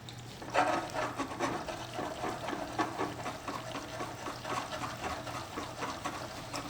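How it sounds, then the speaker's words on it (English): Bread frying in very hot oil in a pan that is being shaken, giving a continuous crackling, bubbling sizzle with rhythmic sloshing pulses, close and moderately quiet, with no talk. "By shaking the pan, I'm just trying to put the oil over the bread."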